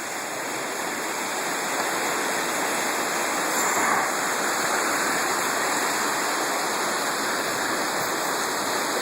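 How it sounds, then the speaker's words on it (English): A river rushing beside a snowy cabin during heavy snowfall, a loud continuous broadband roar of flowing water with no pauses, close and steady throughout. "There's the river."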